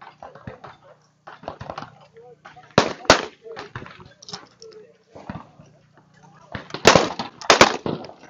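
A Beretta 690 over-and-under shotgun fires several sharp, loud reports that stand out among voices talking at a busy trade show.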